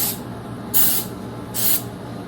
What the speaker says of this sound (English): you want to spray it maybe once down, once across